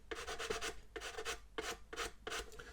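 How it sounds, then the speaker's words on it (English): Sandpaper rubs back and forth against the plastic bow of a Revell 1/144 Flower Class corvette model kit, producing five or six close, soft, rhythmic rasping strokes. "So I'm basically going to be sanding this so that it's flush with the line of the plating here."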